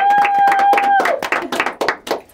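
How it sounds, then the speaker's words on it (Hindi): Clapping from a studio audience at a Hindi entertainment talk show, welcoming a show's creator and actor; sharp, scattered claps with a steady tone at first, loud and close. "तो पहले दोनों के लिए तालियां हो जाए"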